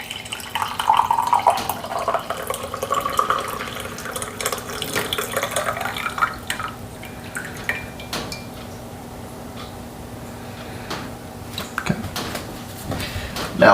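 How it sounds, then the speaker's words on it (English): Coffee is poured slowly through a French press filter, trickling and splashing with a liquid stream that fades into softer drips and light clinks toward the end. "And I want to hold the top of this as I slowly pour. Get yourself an angle. Let the coffee seep through the filter."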